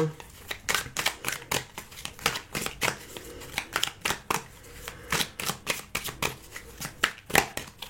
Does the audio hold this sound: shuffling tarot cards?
yes